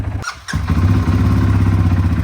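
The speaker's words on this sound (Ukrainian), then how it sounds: "Заводиться квадроцикл просто з полтичка" A CFMOTO CFORCE 450L EPS ATV with 13,000 km of rental use starts after a brief cranking squeal, then settles into a loud, steady, close-up idle with a throbbing, even beat.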